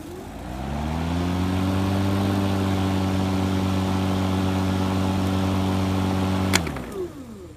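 An EGO battery electric lawn mower runs with a steady, fairly loud motor hum and blade whir for about six seconds, then shuts off with a click and a brief rattle as it spins down.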